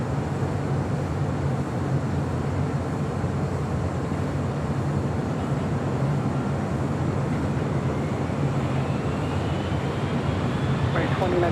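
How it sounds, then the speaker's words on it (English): A Boeing 787 Dreamliner arriving from London and landing at LAX, a broad continuous roar of jet engines that swells slightly, heard from the airport with a voice talking over it. "next arrival is the Dreamliner coming in from London"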